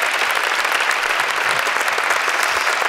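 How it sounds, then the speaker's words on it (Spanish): Studio audience on a Spanish late-night comedy show applauding a guest named Antonio, a dense, steady wash of many hands clapping at once, loud and close, with no voices over it. "un aplauso para Antonio"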